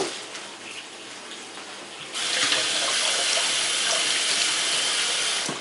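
Tap water gushes steadily from a faucet over a leftover cucumber being rinsed at a kitchen sink, starting softer and then swelling into a loud, continuous splashing stream after about two seconds.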